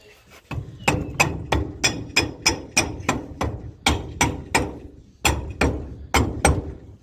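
Dead blow hammer tapping a passenger-side CV axle onto a 2013 BMW X5 35d E70 with the 3.0-litre diesel: about fifteen close, firm thuds in a steady rhythm, with a short pause near the end.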